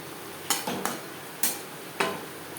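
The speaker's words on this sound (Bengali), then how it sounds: "গ্রেভির সাথে মাছ বেশ ভালো করে মিক্সড করে দেব" Silver carp fish being stirred into a simmering gravy, with a faint bubbling background and four quick spoon scrapes against the pan, close and sharp, with no voices.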